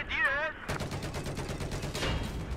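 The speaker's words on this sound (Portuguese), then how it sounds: "Da onde que tá vindo o tiro?" Rapid automatic gunfire in Battlefield 4 multiplayer rattles in a dense, continuous burst of closely spaced shots, loud and steady after a brief voice at the start.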